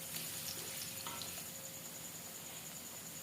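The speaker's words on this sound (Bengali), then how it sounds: "ওই জন্য প্রথমে আমি আলুগুলোকে আগে ভাজে নিচ্ছি।" Potatoes fry in hot oil in a pan, giving a faint, continuous sizzle with soft stirring noises and no talk.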